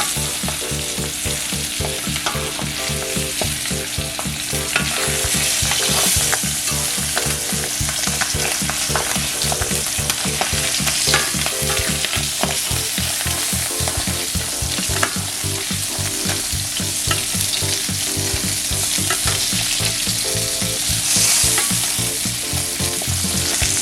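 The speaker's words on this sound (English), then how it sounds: "So you're just going to tip your pan, get your oil on your spoon and start basting." Salmon in a pan being basted with hot oil spooned over it, a loud, dense, steady sizzle and spatter continuing without a break, with rhythmic spoon movement beneath.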